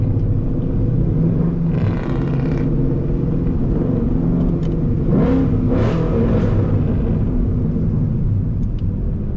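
A second-generation Ford Mustang S550 idles at a car meet with a constant heavy rumble, and a couple of short revs swell over it; no one speaks.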